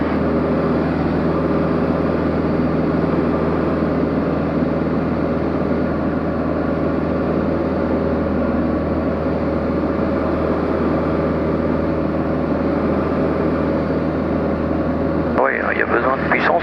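A DR400 light airplane's piston engine drones at steady power throughout a circuit, loud and close from inside the cabin, with a brief change near the end.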